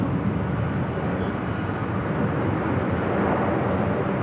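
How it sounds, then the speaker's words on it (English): Steady broadband roar of a 33-year-old Delta Air Lines Boeing 757 airliner at LAX, a continuous heavy jet rush without breaks, loud and constant throughout. "Delta Airlines flight 395, a 33-year-old 757 at 200."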